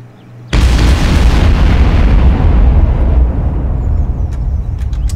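Missile warheads striking targets in Garry's Mod set off a sudden, very loud explosive boom that rolls into a sustained roaring rumble, with faint crackles as it slowly fades.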